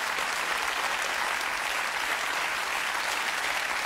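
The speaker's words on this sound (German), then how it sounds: "Da brauchen Sie gar nicht so hämisch zu klatschen" A studio audience at a German TV comedy show applauds steadily, a dense, even wash of clapping from many hands that continues without a break.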